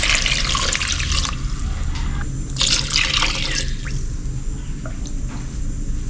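Rice wash water splashes and pours into a pot in uneven bursts, a steady liquid rush close by with brief pauses between pours.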